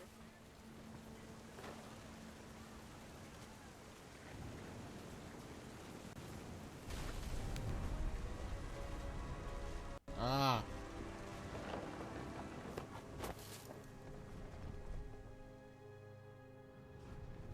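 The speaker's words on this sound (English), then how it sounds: "The thunder sounded much too close and full of angry power." A thunderstorm with rain in the video game What Remains of Edith Finch: steady rain patter and wind-like noise throughout, with a surge around the middle and a brief sharp burst, plus a short spoken exclamation.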